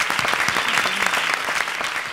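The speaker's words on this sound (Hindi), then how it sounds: "आप दोनों को ढेर सारी तालियां मेरी तरफ से।" A comedy stage show audience applauds, with dense steady clapping from a large crowd throughout, loud and close.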